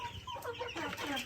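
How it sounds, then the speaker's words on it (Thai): Farmyard chickens and ducks at a rural home give a short burst of quiet clucking, slightly distant and alone. "เป็ดไก่พี่น้อง"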